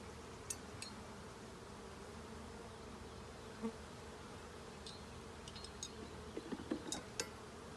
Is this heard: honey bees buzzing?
yes